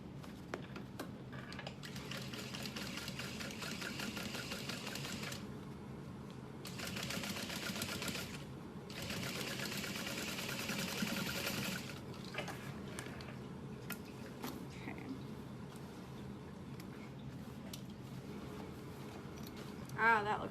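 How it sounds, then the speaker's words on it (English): Sewing machine stitching over the flap of a Diamond Clutch Wallet, running in a few bursts of rapid, even whirring and ticking separated by brief pauses, fairly quiet and close. "it looks like I need to stitch over this flap"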